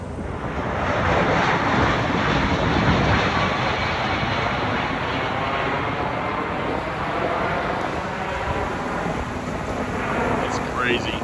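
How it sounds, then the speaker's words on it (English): A low-flying airplane passes over a cold winter beach on the Atlantic, a broad, steady engine roar dominating throughout with faint wind and surf beneath. "That plane is low."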